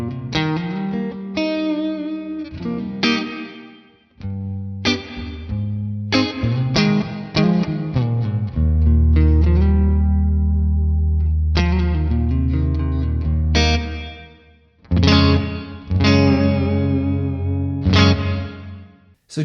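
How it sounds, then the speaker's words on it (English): Electric guitar played through the hall reverb algorithm of an ALABS effects pedal: strummed chords and picked notes, loud and close, each ringing out into long, roomy tails that linger between phrases. "It's a sign of a good hall reverb emulation when it actually sounds like they've captured the tone of a real room"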